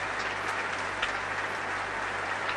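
A packed Royal Albert Hall audience applauding after a performance of Stravinsky's The Rite of Spring, dense steady clapping with scattered cheers, heard from a distance over a low broadcast hum.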